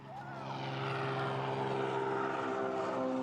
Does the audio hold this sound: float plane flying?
yes